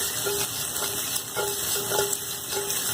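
Shrimp sautéing in butter in a pan, a steady close sizzle with faint scrapes and light clinks now and then, no voices.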